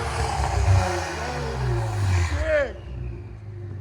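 Infiniti Q60 3.0L twin-turbo V6 with an aftermarket exhaust and open valves revs hard, a loud close-range engine roar rising and falling before cutting off abruptly, with a voice speaking over it.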